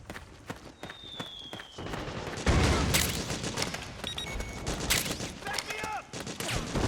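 Suppressing gunfire in the video game Metal Gear Solid 4, with rapid bursts of shots over a dense, busy battle soundscape that turns louder partway through.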